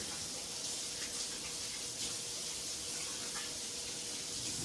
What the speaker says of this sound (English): I'm gonna wash my hands real quick so that I can work.